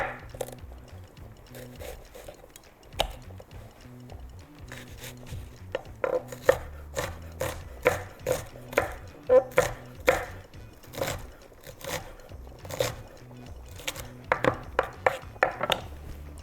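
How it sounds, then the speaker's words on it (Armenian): Knife chopping onion finely on a board while cooking shrimp pasta, quiet scraping at first, then a run of sharp, evenly spaced taps that speed into quick rapid bursts toward the end, close and crisp. "ստեղ մի քիչ այսպես եմ անելու, որպեսզի սոխն էլ կտրատեմ մանր"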